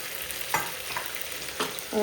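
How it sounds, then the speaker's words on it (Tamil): Cooked chickpeas (sundal) are tipped into a hot pan with coconut and stirred, giving a soft continuous sizzle broken by a few sharp scraping stirs, close and moderately quiet. "இப்போ இதில் நம்ம சுண்டல் சேர்த்துறோம்"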